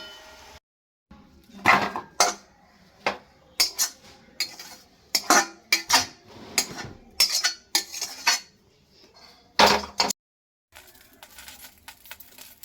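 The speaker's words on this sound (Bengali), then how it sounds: "এবার আমি এটা একটা থালার মধ্যে তুলে রাখছি।" Steamed cooked greens being moved from a pan onto a plate, a run of loud, close metallic clinks and scrapes of utensils in irregular bursts separated by brief silences.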